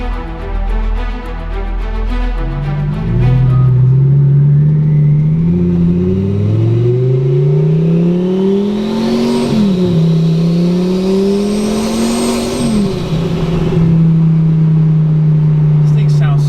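A 1,040-horsepower twin-turbo Lamborghini Gallardo pulls hard from the cabin, its loud engine climbing through several gears in rising sweeps with brief dips at each shift, while occupants talk in the background.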